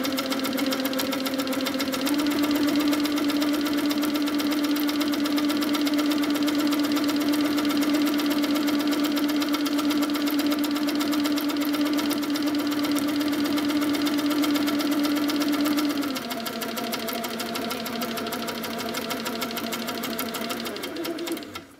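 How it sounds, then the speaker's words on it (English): An HQ Sweet Sixteen sewing machine free-motion quilting with a steady, loud mechanical hum and fast needle drone that holds through most of the clip, shifting pitch near the end as it slows. "I prefer to stop rather than trying to move while the machine's going"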